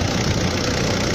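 A car engine idles close by in a steady, rumbling drone with a faint rhythmic knock.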